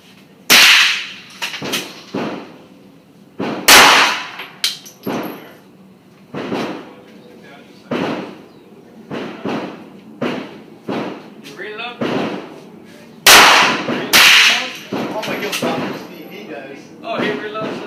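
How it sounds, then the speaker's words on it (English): SIG P238 pistol in .380 caliber fired at an outdoor shooting range, with around fifteen sharp, loud reports at irregular intervals, some in quick pairs, and faint talk between shots. "So here's George shooting his SIG 238 in 380 caliber."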